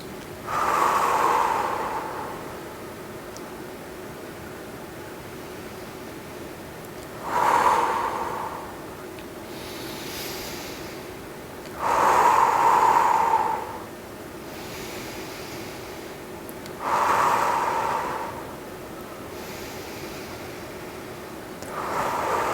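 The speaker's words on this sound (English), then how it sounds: "Show me, deep breaths for this, guys." Slow, deep breaths are drawn in and let out during a group breathing exercise, each long airy exhale arriving at steady intervals of several seconds with quiet between them.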